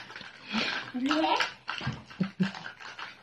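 Tap water runs and splashes while raw chicken is washed, heard close up and in uneven bursts, with a voice speaking over it.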